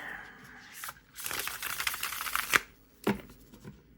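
A thick deck of playing cards is riffle-shuffled close up, producing bursts of rapid fluttering clicks followed by a sharp bridging snap and a short second riffle.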